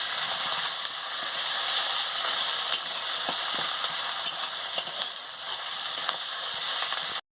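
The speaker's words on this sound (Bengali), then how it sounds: "পেঁয়াজ কুচি দিয়ে দিচ্ছি, দিয়ে ভালো করে ভেজে নিচ্ছি। আদা বাটাটাও দিয়ে দিচ্ছি, দিয়ে ভালো করে ভেজে নিচ্ছি।" Chopped onion and ginger paste fry in a pan with a loud, steady sizzle, broken by frequent scraping and stirring clicks throughout.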